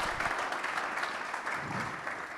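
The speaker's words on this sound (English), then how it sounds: "a round of applause for Mike here" A conference crowd at a Bitcoin event in Medellín applauds a speaker taking the stage, a continuous burst of clapping that stays fairly even and slightly distant.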